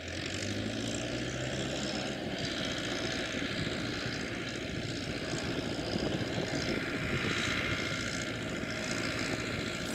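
Tractor working in a pear orchard with a sprayer for crop protection, a steady, droning engine hum that holds evenly for ten seconds at moderate distance, accompanied by a faint airy hiss and no speech.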